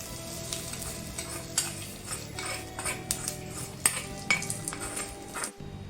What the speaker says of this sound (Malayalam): താളിപ്പ് കറിയിലേക്ക് ചേർത്ത് കൊടുക്കാം